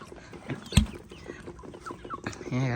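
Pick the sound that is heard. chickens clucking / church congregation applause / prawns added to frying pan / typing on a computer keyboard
chickens clucking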